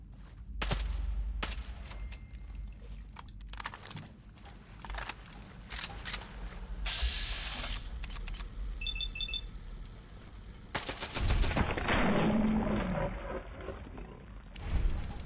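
Weapon fire in Fallout 4, loud sharp bursts and cracks broken by short gaps, mixed with beeping tones, roaring game effects and a heavier stretch of blasts near the end.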